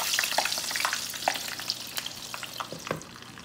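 Pork belly for lechon kawali deep-frying in a pot of oil, a steady close crackle and bubbling sizzle with sharp pops scattered throughout, no voices.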